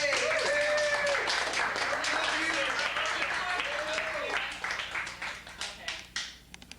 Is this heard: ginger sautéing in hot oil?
no